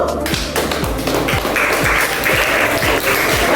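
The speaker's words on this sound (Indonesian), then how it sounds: "Dari Raja Wali kita beri aplaus dulu." A classroom group applauds a student presenter, a loud, steady burst of many hands clapping close by for a few seconds, with a faint voice underneath.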